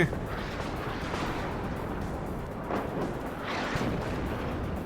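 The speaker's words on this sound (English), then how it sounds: "But they got tons of artillery still. HE coming in here." Artillery fire and incoming HE shells in the real-time strategy game WARNO, a low, steady rumble of distant bombardment with a few louder swelling blasts rising out of it.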